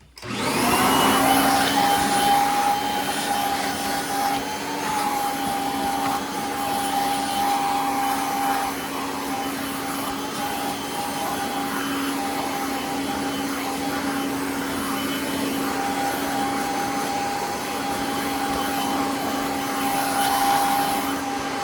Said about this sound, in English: So now let's vacuum everything out.